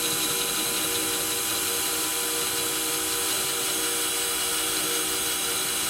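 Steady, unbroken whir of a power drill boring slowly into a planter, loud and close, its motor holding a constant pitch throughout with no talking.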